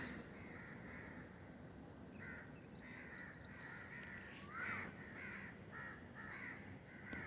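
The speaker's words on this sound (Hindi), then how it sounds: "ये कौवा बोला ना" Crows caw repeatedly in the early morning, harsh calls rising and falling over several seconds at moderate distance, with other birds chirping faintly around them.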